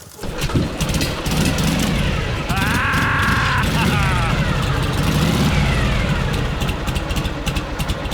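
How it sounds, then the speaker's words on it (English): A motorcycle engine fires on a single kick and settles into a loud, close, steady idle with a throbbing exhaust, with a voice talking over it. "That's a 1-kick motorcycle"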